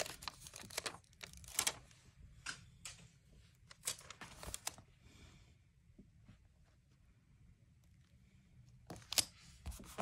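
A small part-vellum paper sticker for a junk journal is handled and peeled, giving faint intermittent crinkles, rustles and brief tearing scrapes in a quiet room.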